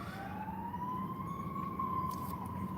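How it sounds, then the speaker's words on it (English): A siren wails steadily in the distance, its rising tone sustained over low background rumble, with no voices present. "You guys hear them sirens?"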